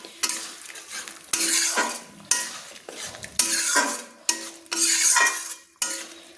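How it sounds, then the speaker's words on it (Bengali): Fried potato and cauliflower are stir-fried with spices in a pan for a Bata fish sour curry: rhythmic spatula scrapes and clatters, about six strokes, over a constant sizzle, with no talk. "ভালো করে আমি একটু মশলার সঙ্গে কষিয়ে নিচ্ছি"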